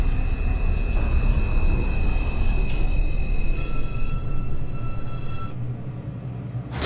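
An NYC Subway R142 train on a Manhattan-bound 5 local run in the OpenBVE simulator game rumbles steadily along the track, with continuous loud low roar, high whining tones and brief clanks, no talk.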